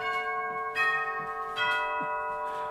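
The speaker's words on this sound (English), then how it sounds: "That's actually our doorbell." A household doorbell rings with two resonant, church-bell-like chimes about a second apart, each tone lingering and overlapping the next, with no voices.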